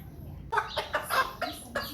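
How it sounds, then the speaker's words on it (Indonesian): A chicken clucks nearby in a series of about five short, evenly spaced clucks, fairly quiet and with no talk. "Nah, dan ini ayam"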